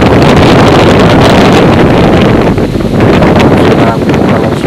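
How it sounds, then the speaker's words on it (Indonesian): Strong wind buffeting a handheld microphone outdoors near a hilltop grave complex: loud, continuous low rumbling gusts that swell and ease slightly, close and overpowering, with no other clear sounds. "di tempat saya berada angin besar"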